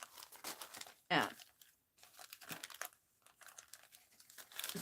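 Gift wrap paper crinkles and rustles as it is trimmed to size, with one loud, close crackle among softer intermittent handling noises and faint speech.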